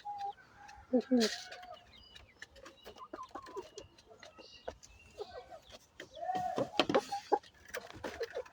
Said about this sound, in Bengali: রানিং ডিম পারা মুরগি যদি কেউ নিতে চান